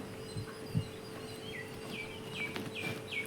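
Faint bird chirps repeat outdoors, short descending calls coming every half second or so over a steady low hum.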